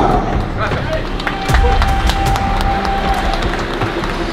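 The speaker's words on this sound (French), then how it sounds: "Applaudissements dans le coin rouge pour Léonard Perduca." Boxing event crowd applauding Léonard Perduca in the red corner: busy, continuous clapping and cheering mixed with crowd hubbub, loud and sustained throughout with a few sharper claps standing out.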